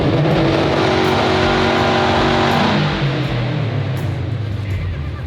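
A twin-turbo Chevrolet Corvette C8 engine on launch control holds a high, strained rev for a few seconds, then drops and rumbles lower, loud and close.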